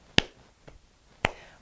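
Two sharp, isolated hand-clap and slap hits for a preschool circle time song, about a second apart, loud and close with quiet between them.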